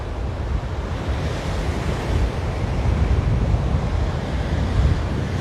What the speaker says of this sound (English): today it is quite windy